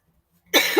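A person coughs once, close and loud, a sudden harsh burst after near silence.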